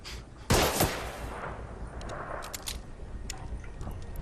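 Gunfire during a gun battle in the video game The Order 1886, opening with a loud, sharp burst of shots followed by a softer, sustained rattle of distant firing and scattered reports.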